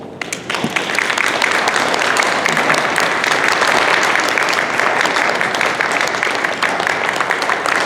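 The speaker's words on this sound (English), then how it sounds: "I think we ought to give our chairman a round of applause" Sustained applause fills a selectmen's meeting room in honour of the chairman, a dense, even wash of many hands clapping close by that swells quickly after a brief start and holds steady throughout.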